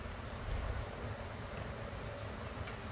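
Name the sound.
honey bees at the hive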